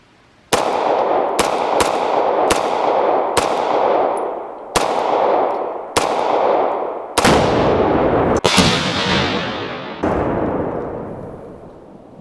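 Series of sharp explosive blasts set off outdoors, about a dozen loud bangs spaced irregularly over twelve seconds, each with a long ringing decay, the later ones heavier and rumbling.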